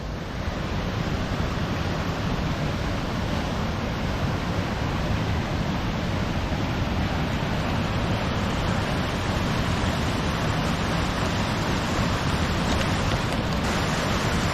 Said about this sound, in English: here's more lovely waterfalls